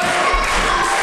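A crowd at an independent wrestling match cheers and shouts for a wrestler, loud and continuous across a brief burst.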